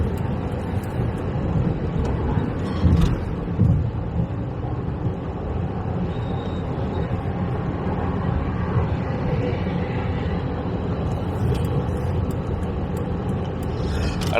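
Car cruising at 70 mph on the M20 motorway between Ashford and Dover, a steady loud low rumble of road and engine noise inside the cabin, continuous and unbroken.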